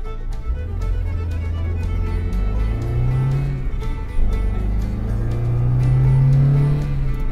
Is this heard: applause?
no